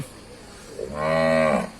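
A single cow moos loud and close at a local cattle market in Nan, Thailand, one long drawn-out low call lasting under a second with no talk around it.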